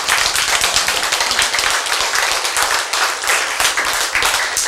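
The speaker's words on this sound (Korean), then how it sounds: "그래서 박수 쳐봐요" A group claps continuously for several seconds, a dense, lively patter of many hands with no talking.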